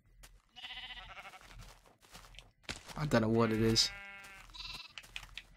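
A Minecraft sheep on Xbox 360 gives a drawn-out, close bleat in the middle of the moment, with a player talking before and around it.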